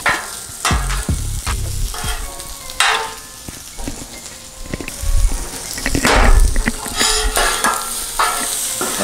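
Steak and peppers sizzling on a Blackstone griddle, a steady fry broken by repeated scraping and stirring strokes from a spatula, loud and close with no talking.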